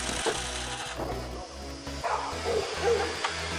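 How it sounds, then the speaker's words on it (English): Dogs barking outdoors near a shed on a winter day, mixed with wood sawing and a running engine, giving a busy, noisy layered scene with repeated barks over constant rumble. "Did you hear all the dogs barking and the sawing and whatever else is going on?"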